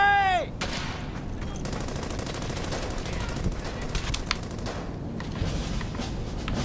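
Sustained automatic gunfire from the World War II shooter Brothers in Arms: Hell's Highway, dense bursts and scattered shots rattling continuously for several seconds at steady loudness, with a brief tonal game sound at the start.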